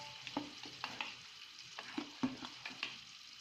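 Golden onions fry in a pan as ginger garlic paste is added for chicken biryani, with soft sizzling under a string of quick, close stirring scrapes and taps.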